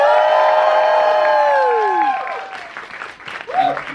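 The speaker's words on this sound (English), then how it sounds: "Can we give them a huge round of applause?" A screening audience for Everybody's Talking About Jamie breaks into applause and cheering after a long sustained tonal sound; the clapping and whoops rise loudly in the second half.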